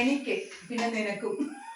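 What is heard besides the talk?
No everyday noises stand out.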